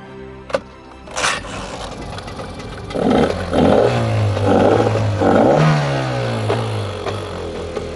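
A boat engine under repair is cranked and coaxed to life, with a clatter followed by several rising revving pulses and a low steady running drone close by.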